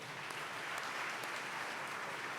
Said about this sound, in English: Actually, we should give that a round of applause.